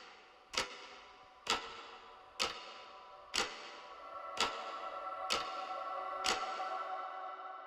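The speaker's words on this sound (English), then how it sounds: "And I've used ambiances and clock loop also" A ticking clock loop in a progressive house track: sharp, evenly spaced ticks strike about once per second, each ringing briefly over a faint ambient bed.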